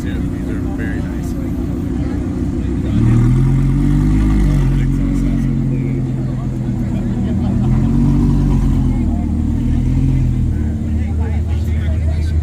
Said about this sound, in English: Oh, guys, look, red Audi R8 V10. He's gonna park right here.